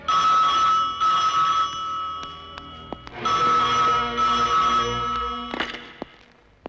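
A telephone rings in two long electronic bursts separated by a short gap, loud and close, with a few clicks between.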